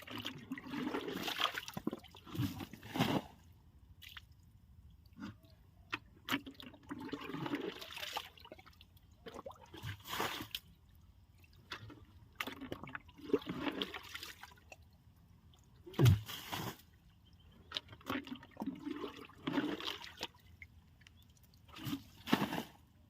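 Water being bailed out of a pit to catch fish, heard as repeated splashing and sloshing bursts with short pauses between scoops, fairly close and without talk.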